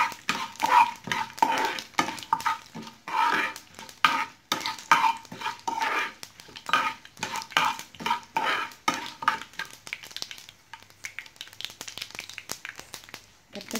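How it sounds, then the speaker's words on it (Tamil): Mustard seeds splutter and five dried red chillies fry in a pan for a vegetable chutney, a stirring spoon scraping and clinking against the pan in quick repeated strokes, close by, with crackling underneath. "கடுகெல்லாம் பொரிஞ்சிடும். பொரிஞ்சதுக்கப்புறம் நான் ஒரு 5 வரமிளகாய் போட்டுக்கிறேன்."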